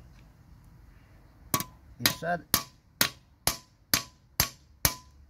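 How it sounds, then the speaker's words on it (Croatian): A special peening hammer strikes a scythe blade resting on a small anvil, giving about nine sharp metallic clinks in a steady rhythm, close and clear, with a quiet voice briefly heard between blows. "ovo se zove babica, to je donji dio kao nakovanj, ovo je neki specijalni čekit koji se zove"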